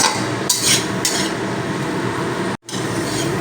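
Rice with carrots being stirred and fried in a pan, with scraping and clinking of a utensil against the pan over a steady sizzle, a brief gap partway through.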